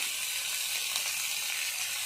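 Boiled dal fries in a pan with browned onion and spices, giving a constant close-up sizzle and hiss with no voices over it.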